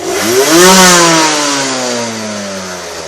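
A derestricted motorcycle engine revs hard to a loud peak, then the pitch slowly falls as the revs drop back toward idle, close and with no voices.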